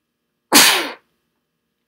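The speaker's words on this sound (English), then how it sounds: "I'm going to sneeze." A single sharp sneeze bursts out loudly for about half a second, fading into silence, followed by a tiny faint click near the end, in a quiet indoor room.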